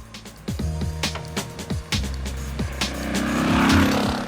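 A Royal Enfield Thunderbird 500 single-cylinder motorcycle engine thumps at low RPM, a steady close rhythmic pulse that swells slightly toward the end, with no talk.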